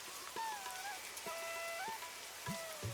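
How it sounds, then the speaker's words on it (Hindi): Heavy rain pours steadily in a village setting, a dense even hiss throughout with a few faint thuds and tonal background sounds mixed in. "काकी, आज बारिश थोड़ी ज्यादा ही हो गई"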